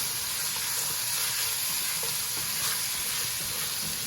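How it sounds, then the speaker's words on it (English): Onions and tomato paste for a fall beef stew sizzle steadily in a pot, a dense continuous hiss with faint stirring scrapes and no talking. "get those onions sweating down a little bit"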